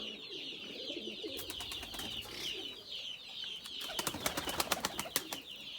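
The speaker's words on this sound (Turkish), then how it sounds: "Bunlar güvercin." Soft pigeon coos murmur in the background while a flurry of sharp wing flaps and clatter bursts out near the end, no talking.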